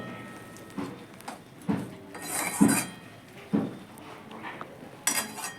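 A pot of food sweetened with jaggery being stirred, with a spoon scraping and knocking against the metal in several close, separate clanks spaced a second or so apart, and no speech.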